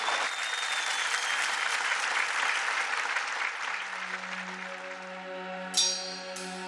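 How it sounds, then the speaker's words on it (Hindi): Studio audience applauding a contestant on a singing reality show, dense steady clapping filling most of the clip, then fading as music with a sustained tone and a bright bell-like chime comes in near the end. "जोरदार तालियां"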